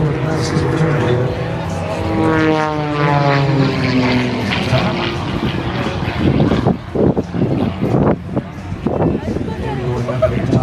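An aerobatic propeller airplane with an inverted fuel and oil system performs at a 2012 air show, its engine droning and sweeping in pitch as it turns and climbs, loud and continuous beneath a commentator's voice.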